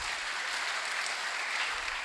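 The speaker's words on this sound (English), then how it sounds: "A round of applause for our contestants." A studio audience at a regional school quiz competition claps for the contestants, a steady even patter of applause at moderate volume lasting about two seconds.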